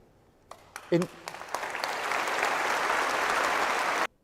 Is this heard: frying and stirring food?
no